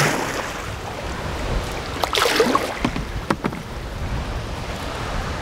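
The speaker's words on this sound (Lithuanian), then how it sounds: "Per bangas pervarau, tai vidurys upės pats pavojingiausias, ten didžiausios bangos lūšta." A kayak paddled across choppy river waves near the Bulgarian border, with constant rushing water and wind, and a burst of close splashing paddle strokes in the middle before the sloshing settles again.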